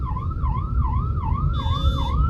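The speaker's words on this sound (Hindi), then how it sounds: "लो जी, एम्बुलेंस हमने आपको साइड दे दी" Loud, nearby ambulance siren in Delhi traffic, sweeping up and down in an even rhythm over engine rumble, with a thin high tone joining partway through.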